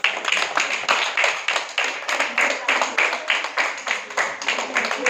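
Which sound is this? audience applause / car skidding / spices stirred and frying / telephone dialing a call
audience applause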